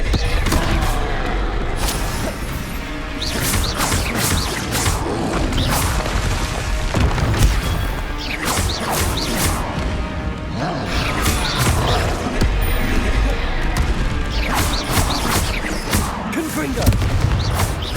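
Repeated Confringo spell blasts from combat in Hogwarts Legacy, loud fiery booms and crashes following each other in quick succession throughout a hectic fight, with no voices over them.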